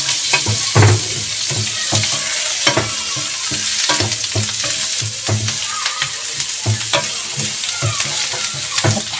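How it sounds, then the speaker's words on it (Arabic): Chopped onions sizzle in a hot pan while a utensil stirs them, giving a steady close frying hiss broken by regular scraping strokes. "نحط كل البصله بحال هكا"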